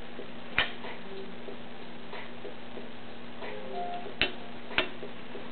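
A wrench clicks while holding the engine during timing chain tension work on a Mazdaspeed 3, three sharp isolated clicks spread unevenly over a steady low hum.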